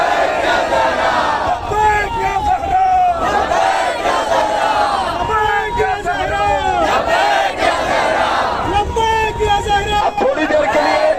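Large crowd at a religious gathering in Mumbra, Mumbai chanting slogans in loud unison, continuous and dense throughout, with rhythmic surging shouts and babble of many voices close by.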